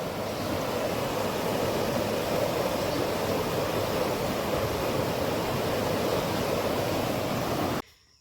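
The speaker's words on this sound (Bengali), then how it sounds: "এই দেখো আমাদের গ্রামের ঝর্ণার জল এই যে দেখো কি সুন্দর এই দেখো কিভাবে দেখো জল ছুটছে" Water rushing steadily from a village fountain, a dense, continuous broadband wash close by and fairly loud, holding constant before cutting off abruptly near the end.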